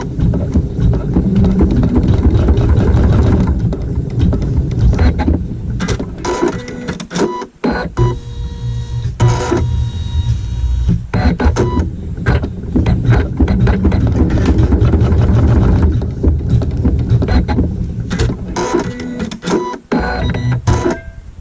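A sewing machine stitches a tack down on quilt fabric, a close, continuous mechanical whirring and rattling with brief pauses and stops along the way.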